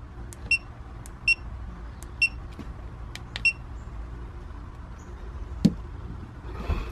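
A GoPro action camera gives a series of short, faint high electronic beeps at irregular intervals while its Wi-Fi is switched on, with a few soft clicks and handling noises over a quiet background.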